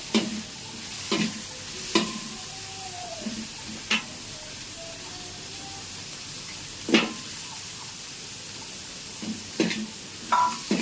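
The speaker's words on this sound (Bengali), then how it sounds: "কাঁচা মরিচ দিয়ে দিলাম একসঙ্গে সব ভাজা হবে" Oil sizzles steadily with green chillies frying in a hot pan, broken by several sharp clatters of a utensil stirring and scraping, with no talking.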